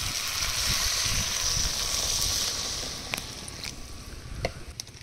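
Fresh garden kohlrabi and other vegetables simmer in a little water in a pan, giving a steady close hiss and bubble that softens slightly. A few soft clicks and taps come near the end.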